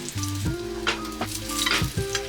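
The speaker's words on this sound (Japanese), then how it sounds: "ここもちょっとね、色がつきづらい部分でありますので、しっかり押さえてあげて焼いていきます。" A fish fillet sears in a frying pan while it is pressed down flat, giving a steady close sizzle with a few brief sharp crackles and faint tonal sounds in the background.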